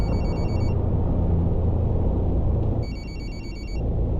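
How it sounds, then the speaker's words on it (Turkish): A passenger's mobile phone ringing aboard a coach in Fernbus Simulator, a repeating electronic ring tone over the bus's steady low engine rumble, pausing briefly before ringing again, loud and close. "birinin telefonu çalıyor"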